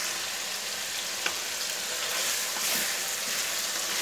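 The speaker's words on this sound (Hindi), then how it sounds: "इसको अच्छे से भून लेंगे" Chicken pieces being fried down for kachnar gosht, giving a continuous bright sizzle with faint stirring, steady and fairly close with no voices.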